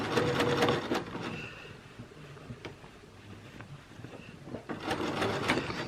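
A sewing machine stitches gathers into a bodice in bursts, fast rattling runs near the start and end with a softer lull between.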